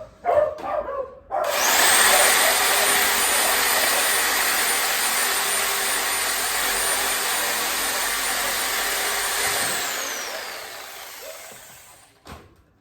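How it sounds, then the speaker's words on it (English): A reciprocating saw cuts through a deer backbone during butchering, a loud, steady buzzing drone that holds for about eight seconds before winding down, with a few faint dog barks at the start. "Now you might think my sawzall blade ain't sharp"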